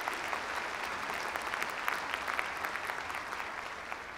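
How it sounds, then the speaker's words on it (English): An audience at a winter undergraduate commencement ceremony gives a steady round of applause for event volunteers, a dense, even wash of many hands clapping at moderate distance throughout. "So let's give them a round of applause."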